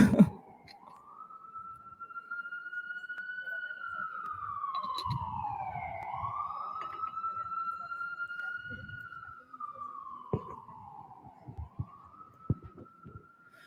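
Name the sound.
ambulance siren passing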